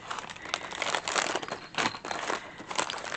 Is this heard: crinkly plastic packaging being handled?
yes